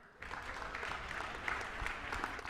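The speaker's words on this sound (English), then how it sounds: "let's have a round of applause for Nick Rokop." Audience applause at a startup pitch competition event, a dense steady wash of clapping that rises quickly and holds strong for a couple of seconds.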